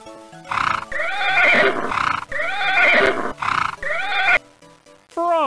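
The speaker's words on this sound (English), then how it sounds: "Horse." Whinnying horse neighs from a Muppet Babies animal PC game, several loud rising and falling calls in quick succession, alone with no talk, ending in a short tonal chime.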